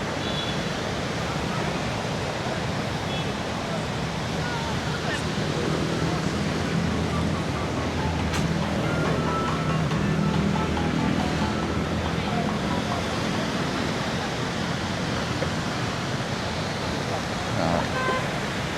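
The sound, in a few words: ocean waves breaking at beach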